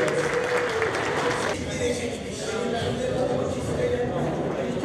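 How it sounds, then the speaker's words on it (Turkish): Audience applause at a Turkish public gathering in Çanakkale, a continuous wash of clapping with a voice speaking over it. "Bir alkış rica ediyoruz."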